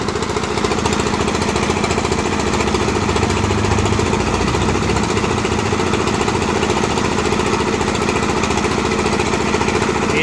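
A dredging machine engine runs steadily at a tower site digging soil 12 meters deep, a loud continuous mechanical drone with rattling, sounding worn and strained throughout, no talk.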